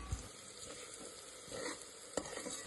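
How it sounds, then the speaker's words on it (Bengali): Sliced onions fry in hot white oil and ghee with a little salt and sugar in a pressure cooker, giving a faint, steady sizzle broken by a few soft stirring clicks, with no one talking. "প্রেশার কুকারে সাদা তেল আর ঘি গরম করে এখানে একটু নুন চিনি দিয়ে পেঁয়াজগুলো বেরেস্তা করে নিলাম"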